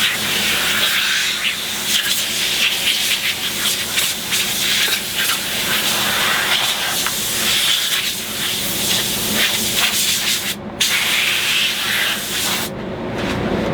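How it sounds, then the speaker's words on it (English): Steady, loud hiss of compressed air spraying dust off a wood cabinet door in a spray booth, continuous, with brief bursts cutting in and out near the end, no voices. "Spray off all the dust."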